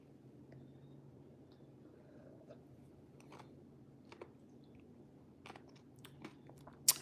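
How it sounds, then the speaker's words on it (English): Someone chewing an icy, with faint, scattered crunches and bites close to the microphone over a low background hum, one sharper crunch near the end. "If you guys hear that crunch, that's the icy."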